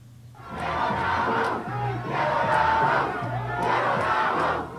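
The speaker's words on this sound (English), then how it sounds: "a crowd of demonstrators flooded Parliament Square protesting a number of issues" A large crowd of demonstrators outside parliament in Parliament Square chants in loud rhythmic waves, voices rising and falling together with shouts over a steady low rumble, close and sustained.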